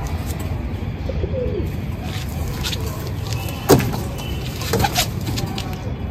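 Domestic pigeons coo softly among a flock of high-flying feather-legged birds, with a couple of brief louder calls standing out over steady outdoor background noise.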